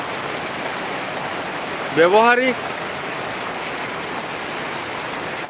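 Steady rain hisses throughout, with a brief spoken word rising over it partway through.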